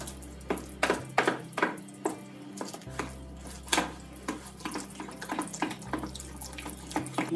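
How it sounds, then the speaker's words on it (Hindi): Water is added to a moong dal chilla batter in a home kitchen, with soft splashes and a run of sharp clinks of a spoon against the bowl in an uneven stirring rhythm, close and fairly quiet. "हम थोड़ा पानी डाल लेंगे इसमें, मिक्स अच्छा से हो जाएगी"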